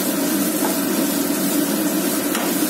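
Chopped onion sautéing in a pan for a crispy chicken recipe, producing a steady close sizzle and frying hiss with no talking.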